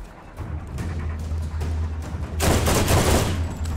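Sustained automatic gunfire in Borderlands, fired through a fence during a boss fight against Dr. Ned and the Wereskag, rattles steadily and grows into a dense, louder burst near the end.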